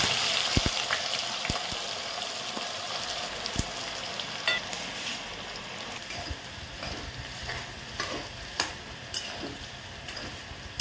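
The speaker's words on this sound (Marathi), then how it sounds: "यामध्ये आता मी हा कांदा टाकून घेते" Onions frying crisp in very hot oil for a paneer dum biryani, a continuous hiss of sizzling with scattered crackles and light clicks of stirring, fairly close and with no talk.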